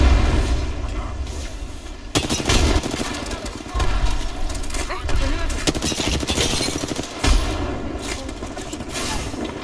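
Gunfire crackles in a fast-paced Apex Legends battle, dense bursts of shots and booms over a steady game soundscape, loud and continuous with a few sharper hits.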